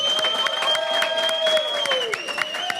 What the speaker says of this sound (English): give Mr. Szur, CEO of Altitude Water, a huge round of applause